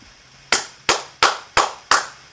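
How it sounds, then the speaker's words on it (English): Five sharp, evenly spaced claps ring out in a quiet room, marking a round of applause for the Ujamaa babies on a daily toast show; each clap is loud and crisp with a short decay, and no one speaks. "we are giving all of our Ujamaa babies a round of applause"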